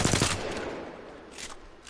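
Automatic fire from an R-301 rifle in a video game: a loud rapid burst at the start that trails off into fainter echoing shots.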